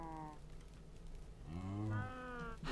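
Bred cows in the Minecraft video game moo in long, drawn-out calls, one brief call first and then a fuller, louder moo, quiet overall with no talk.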